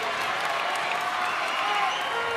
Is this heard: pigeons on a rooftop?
no